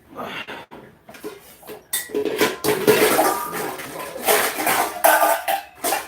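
Running water from a kitchen tap rinsing an onion, a fluctuating splash and hiss with faint clinks of dishes, fairly close and steady for several seconds.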